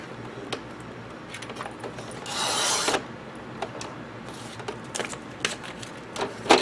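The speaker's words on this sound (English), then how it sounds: "is a 9-inch Xyron machine. And you want to put it face up." A 9-inch Xyron adhesive machine runs nearby with faint mechanical clicks, soft creaks and one brief rolling whir, while light handling noises come and go.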